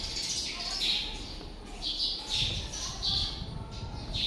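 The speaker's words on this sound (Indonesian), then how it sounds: "Ada burung, suara burung asli." Real birds chirping in Nan Lian Garden, Hong Kong, with short bright chirps repeating in bursts over a steady outdoor background.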